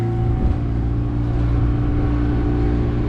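An outboard motor on a 2021 Edge Marine 25 Sport boat runs at a steady hum during a water test, a continuous mid-level engine drone with slight fluctuations and no talking.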